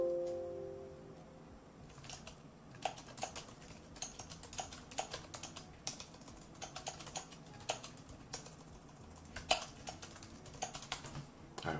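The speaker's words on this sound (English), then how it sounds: "Me typing, being all serious right now." Fingers type on a computer keyboard in a quiet room, a steady run of soft, close key clicks with small pauses, no one talking.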